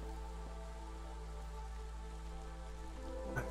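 Light drizzle in the video game Against the Storm, a steady soft patter of rain over a constant low hum and layered game ambience, with a brief brighter tick near the end.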